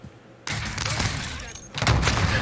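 Gunfire in the battle royale game Warzone, a sudden loud volley of shots starting half a second in, with a second heavier burst near the end, while a voice speaks over it.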